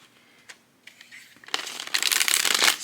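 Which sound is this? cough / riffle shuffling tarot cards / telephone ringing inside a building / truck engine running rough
riffle shuffling tarot cards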